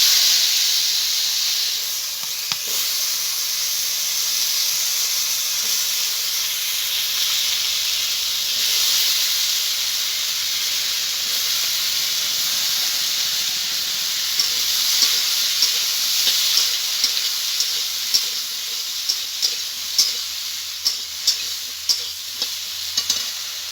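Sliced green bananas and potatoes fry in leftover fish oil, giving a steady loud sizzle and hiss with stirring scrapes that grow sharper and more frequent toward the end.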